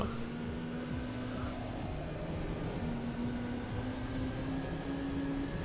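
A Jaguar race car, named as an X820, in the PS1 racing game Need for Speed II, gives a steady synthetic engine drone whose pitch climbs slowly and evenly, holding a constant loud level throughout with no voices.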